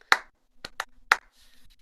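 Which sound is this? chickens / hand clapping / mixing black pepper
hand clapping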